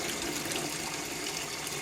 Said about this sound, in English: I'm going to put fresh water on them